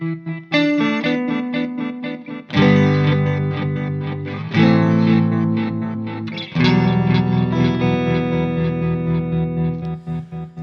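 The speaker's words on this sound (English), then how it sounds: "It's just adding a tremolo effect to the repeats." A guitar played through a delay pedal in tremolo mode, with several strummed chords whose repeats pulse and waver rhythmically as they decay, loud and close with no talking.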